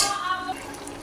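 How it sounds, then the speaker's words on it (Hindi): Chicken karahi being stirred and roasted in a pot, a close, steady sizzle with scraping strokes, loudest at the start and easing slightly over a second. "इसकी हम भुनाई करेंगे अब अच्छे से।"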